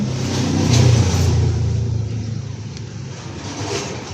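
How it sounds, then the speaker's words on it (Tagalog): Road traffic passing close by, a steady loud engine rumble and tire roar that swells as a vehicle goes past, then eases into a continuing wash of traffic noise. "Pasensya na sa mga sasakyan na dumadaan."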